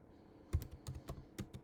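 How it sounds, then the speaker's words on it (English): Quiet, close typing on a computer keyboard in a brief run of irregular clicks and key taps. "the reason why I'm typing over here in Word"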